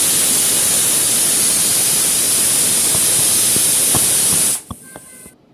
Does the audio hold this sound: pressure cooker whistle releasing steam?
yes